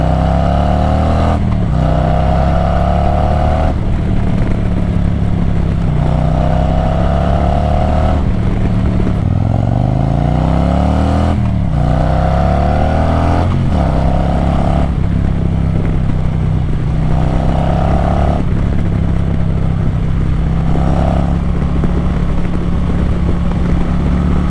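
A motorcycle heads out for a quick spin, its engine droning loud and steady throughout with repeated rising and falling pitch sweeps as it shifts and accelerates, heavy wind rumble underneath.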